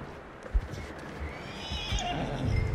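A horse in the video game Red Dead Redemption 2 gives a clear, close whinny over soft background game ambience, with hoof sounds faintly mixed in.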